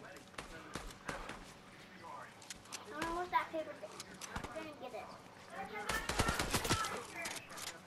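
Rapid bursts of gunfire from a Fortnite match crackle under steady talk from players, with dense clusters of shots swelling louder toward the end.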